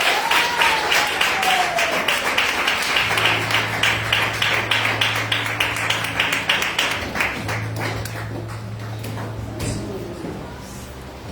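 Church congregation applauding together, dense sustained clapping throughout, with a low organ or keyboard drone entering midway and the applause thinning toward the end.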